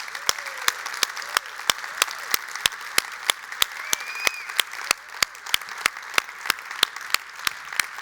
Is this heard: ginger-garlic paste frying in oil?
no